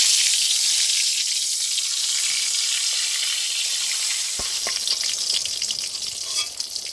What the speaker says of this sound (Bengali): আমি বাকি বেগুনগুলো গরম তেলে দিয়ে দেবো